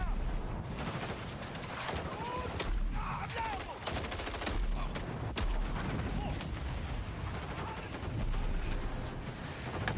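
Shotgun fire in a video game, with repeated booming blasts mixed into a dense, busy game soundtrack full of other effects. Voices can be heard faintly under the action.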